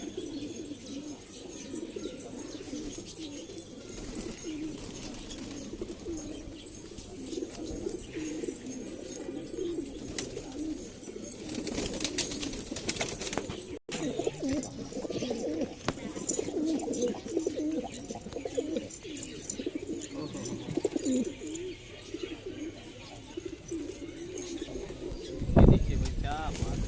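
High flyer pigeons coo in a loft in Jalna, Maharashtra, a steady low murmur of many birds throughout, close and continuous, with a brief flutter near the end.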